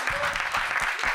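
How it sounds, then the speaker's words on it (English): Applause from an audience at Tea Breaks and Beats 2019, a live music event: a short, dense burst of clapping that fills the space at steady loudness. "Can we have a round of applause?"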